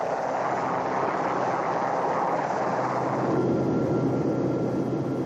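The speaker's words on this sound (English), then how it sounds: "Heavy lifting with the help of a Royal Navy Sea King helicopter." A Royal Navy Sea King helicopter flies near a mountain during heavy lifting, its engine and rotor roar loud and steady throughout with no talk.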